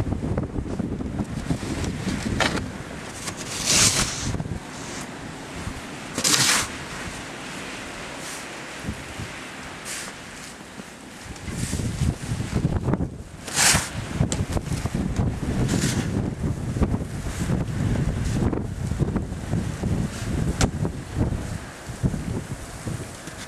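Blizzard wind roars and buffets the microphone, heavy gusts swelling and easing over a constant loud rush with no voices heard.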